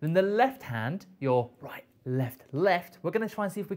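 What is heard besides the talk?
No distinct noise like a dog, phone or traffic.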